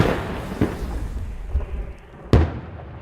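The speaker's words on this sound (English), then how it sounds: "These firing American rounds in a donated Paladin." A donated Paladin self-propelled howitzer fires American rounds outdoors, giving two sharp booming reports about two seconds apart over rumbling background noise.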